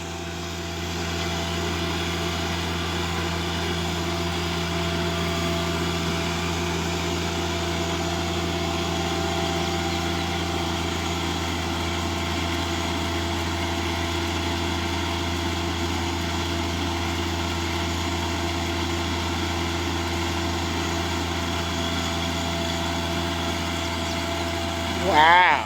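A tractor engine drones steadily at a moderate distance while tilling ground for a greenhouse, a constant low hum that barely varies; voices occur faintly.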